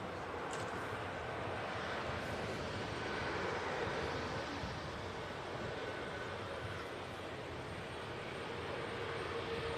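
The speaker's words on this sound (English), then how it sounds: "An A320 Neo just touching down under EasyJet." An EasyJet Airbus A320neo airliner touches down, a steady broadband engine roar holding at moderate level throughout, heard from a distance with no voices over it.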